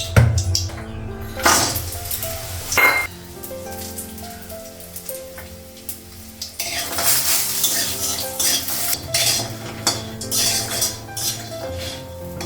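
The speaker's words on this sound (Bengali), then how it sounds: "আগে বড়িটা ভাজবো, তারপরে করলাটা বানাবো" Bori lentil dumplings fry in hot oil with a steady, rain-like crackle and occasional utensil clinks, while a tonal background sound runs beneath.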